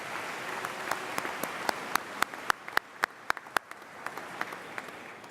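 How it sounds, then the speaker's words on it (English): Audience applause for a school board at a summer school commencement ceremony in Virginia Beach, a spread of sharp individual claps rising to a peak and then thinning out, heard fairly faint and distant with no talking. "If we could just give them one more round of applause for their outstanding effort."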